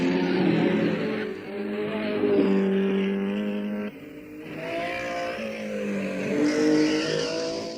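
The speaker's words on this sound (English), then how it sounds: "There's some hairy driving among the small GTs." Small GT race cars at the 1965 Targa Florio in the Sicilian mountains, engines wailing and shifting pitch as they accelerate and lift through bends, loud and close with abrupt gear-change breaks.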